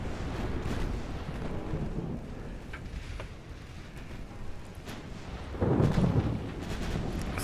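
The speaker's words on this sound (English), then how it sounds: "Get our side guns firing if we can." Warship side guns fire in the naval battle game Ultimate Admiral Dreadnoughts, giving a steady low rumbling barrage with a heavier boom swelling near the end, and no talk.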